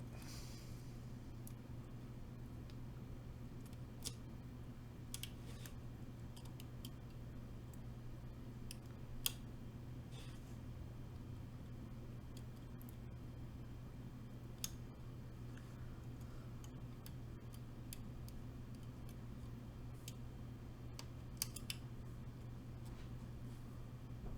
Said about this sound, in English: These are going to be some noisy, clicky switches